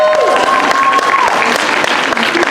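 Audience clapping at a magic show at a horror festival, a dense, steady round of applause filling the whole stretch, with a brief whistle-like tone near the start.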